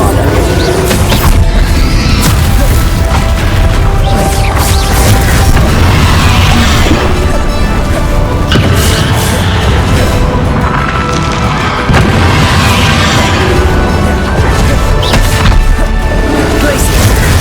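Repeated Bombarda spell blasts in the Hogwarts Legacy video game, heavy booming impacts with splintering crashes recurring throughout a long, dense, loud stretch of combat sound.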